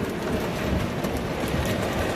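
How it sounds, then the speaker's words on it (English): Dense, steady drumming of hail pelting a car, a loud continuous clatter with rumbling underneath and no voices. "Oh my God, it's literally hailing."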